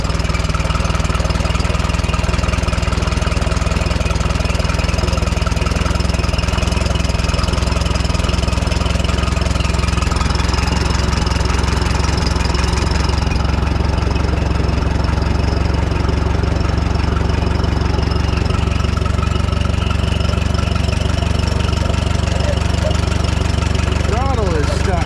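A small engine with a stuck throttle drones steadily and loudly up close the whole time, its revs held high without settling back.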